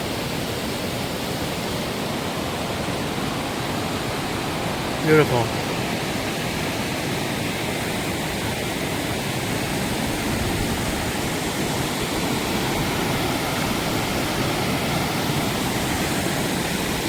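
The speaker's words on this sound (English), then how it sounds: "There's the other side of the waterfall." A steady, broadband rush of falling water from a waterfall on the John Muir Trail fills the whole clip, loud and continuous, with a brief spoken word partway through.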